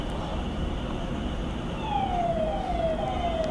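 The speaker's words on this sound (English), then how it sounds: "Security siren? Oh, those sirens?" Security sirens on an escort vehicle accompanying a Rolls Royce, a faint descending wail rising out of loud traffic and crowd noise midway through and continuing to the end.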